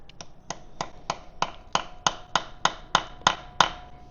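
A hammer lightly taps a dipstick tube into a hole on a Kubota engine swap, about a dozen sharp, evenly spaced metallic knocks that are close and clear, growing slightly louder toward the end.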